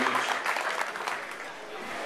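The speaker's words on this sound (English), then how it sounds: "I'd like you to give yourselves a round of applause for being here" Audience applause at a benefit gathering, a dense wash of clapping that starts strong and thins slightly while continuing to the end.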